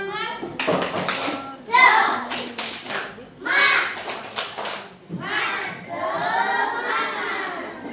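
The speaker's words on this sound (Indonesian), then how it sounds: "Tepuk semangat." Young pupils in a lower-grade classroom perform a rhythmic spirit clap, bursts of group clapping alternating with shouted chanting, loud and close, ending in a longer collective cheer.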